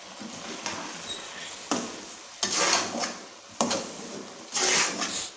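Sugar being stirred into carrot halwa in a pan, with repeated scraping strokes of a spoon against the pan and a soft sizzling underneath, in steady bursts close by.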